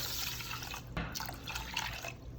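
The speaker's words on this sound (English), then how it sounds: "Pour in the rice, pour in the water." Water pours into a pot holding rice on a kitchen stovetop, a steady faint splashing and trickling that runs throughout with small drips, no talking.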